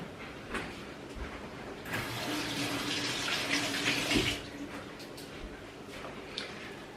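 Kitchen tap water runs into a sink during washing up while cooking, a steady splashing rush that swells in the middle and eases off, with small clinks around it.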